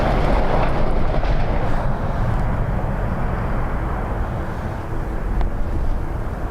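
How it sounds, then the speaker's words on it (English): A British Airways A319 airliner arriving at Dublin Airport from Heathrow on a windy day, a loud broad jet roar mixed with wind rumble that slowly eases. "British Airways 319 next in from Heathrow"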